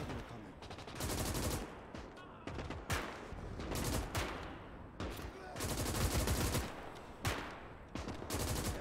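Machine gun firing in the Gates of Hell Ostfront war game, loud bursts of rapid automatic fire separated by short pauses, mixed with other gunfire and battle noise throughout.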